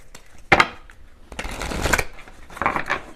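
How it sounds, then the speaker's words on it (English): A deck of Power Thought cards being shuffled, several quick riffling bursts of card flutter separated by short pauses, close and crisp, with no talking. "I love these cards. They're called the Power Thought cards."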